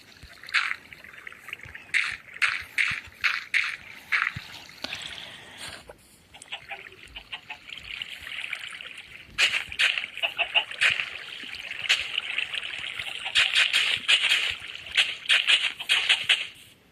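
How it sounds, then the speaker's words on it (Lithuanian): Water poured out in the Minecraft video game: a run of short splashing bursts early on, then a steady, fairly loud watery rush that builds toward the end. "čia vandenį pilam."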